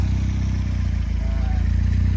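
A Mazda MX5 with a Kraken turbo kit and new exhaust drives along, its engine giving a steady, loud pulsing drone close by with a faint rising whine.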